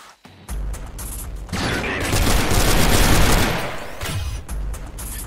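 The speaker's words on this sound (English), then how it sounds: "Oh, my little gun turret is shooting it, that's why." A small automated gun turret in SYNTHETIK: Legion Rising fires in a sustained, rapid rattling burst lasting several seconds, loud and dense, with brief sharp shots before and after the main stream of fire.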